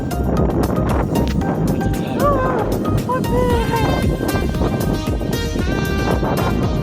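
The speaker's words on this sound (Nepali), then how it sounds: "यहाँ चाहिँ बब्बाल हावा लाग्दो रहेछ" Strong, cold wind at the Bharsha Daurali viewpoint on a Himalayan hill roars and buffets the microphone without a break, while voices can be heard faintly underneath.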